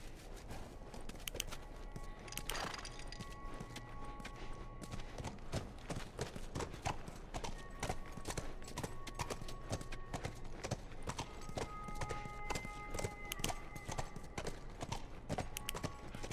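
A horse's hooves clip-clop in The Last of Us video game, a steady, brisk rhythm of hoofbeats running throughout at a quiet level, with faint background tones and no talking.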